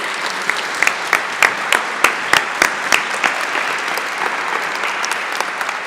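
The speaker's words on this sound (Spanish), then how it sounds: "quiero que recibamos con un fuerte aplauso a Fray Max" A church audience gives a strong round of applause welcoming Fray Max, brisk close clapping with several loud individual claps ringing out early, then settling into a softer even patter.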